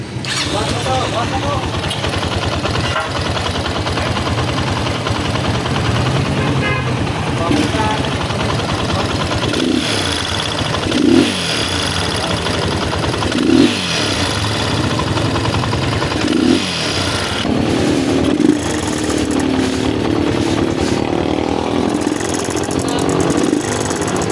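A Honda XR200 motorcycle with a faulty timing chain tensioner runs at a steady idle, its busy mechanical clatter close and continuous, with a few brief revs partway through.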